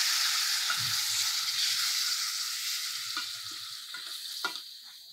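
Tamarind pulp hits a hot tempering of oil and spices for pulihora, giving off a loud, steady sizzling hiss that slowly fades, with a few faint stirring clinks.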